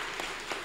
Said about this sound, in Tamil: பேராசிரியர் அபு அவர்களுக்கு நல்ல உற்சாகமான கரகோஷம் கொடுங்க